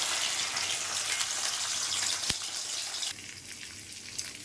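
Onion, garlic and ginger paste frying in a tablespoon of oil, a dense close hiss of sizzling with a single sharp tap in the middle, easing slightly toward the end.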